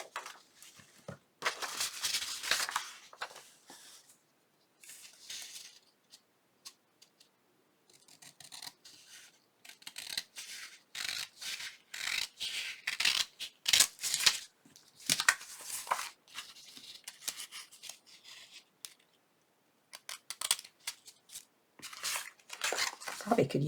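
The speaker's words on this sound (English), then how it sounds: "Probably could use my bigger scissors for this." Scissors cut through paper for an Alice in Wonderland-themed journal: clusters of crisp, rasping snips come in irregular bursts, separated by short pauses, across a long stretch of close, moderately loud cutting.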